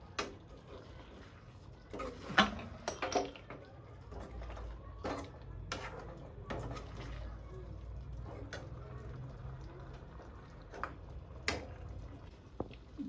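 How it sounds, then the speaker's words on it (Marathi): Raw eggs whisked in a bowl with a fork or whisk: quick, irregular clicks and taps against the bowl's side over a low, steady room hum, with louder sharp strikes in the opening seconds. "आता जरा ही अंडी जरा हलवून घेऊया थोडी."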